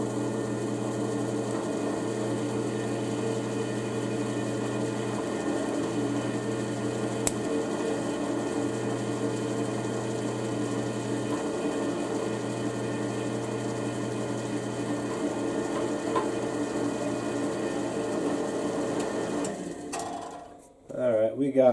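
A drill runs steadily while piercing through two stacked broken band saw blade pieces at once, spinning slowly, giving a continuous motor whine and hum for about twenty seconds before stopping with a brief clatter at the end.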